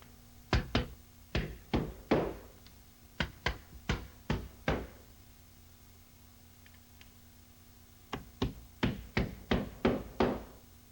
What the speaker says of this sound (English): it's a good idea to nail through the corner bead into the framing